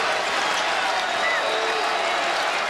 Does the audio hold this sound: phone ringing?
no